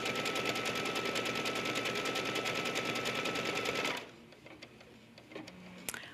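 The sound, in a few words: embroidery sewing machine stitching a triple stitch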